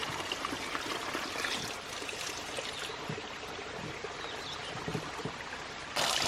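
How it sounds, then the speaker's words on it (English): Water pours steadily into a bucket feeding the drive pipe of a 3/4-inch hydraulic ram pump on a farm, a continuous broadband splashing and gurgling rush heard close and alone, brightening slightly near the end. "I believe we have plenty of water coming in here."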